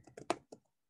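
A few quick, faint clicks of typing on a computer keyboard during a class lecture, a short uneven burst of keystrokes that then falls silent.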